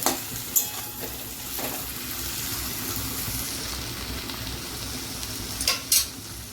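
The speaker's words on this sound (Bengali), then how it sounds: "এই সমস্তগুলোকে ভালো করে আমরা আর একটু ভেজে নেব, টমেটোগুলো গলে যাবে" Tomato mixture for chickpea ghugni fries in a pan with a steady soft sizzle, broken by a few sharp utensil scrapes and clinks at the start and near the end.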